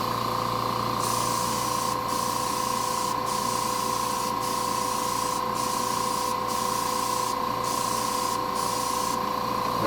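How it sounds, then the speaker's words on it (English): Continuous hissing spray from an aerosol can painting brick pieces, steady and close, with faint periodic high-pitched bursts repeating about once a second. "we're going to spray it"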